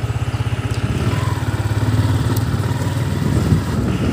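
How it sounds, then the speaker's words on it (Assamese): Engine of a Yamaha R15 V4 motorcycle being ridden, a loud, close, rapid, even throbbing that rises slightly in pitch and holds steady, with a light mechanical clatter and no talk. "এখন বাইক নিনো বা এখন লৈ যাওঁ অলপ চলাই চাওঁ"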